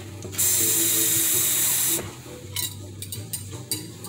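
Water from a tap runs into a cooking pot for gumbo, a steady close hiss lasting about a second and a half before stopping, followed by quieter kitchen clatter.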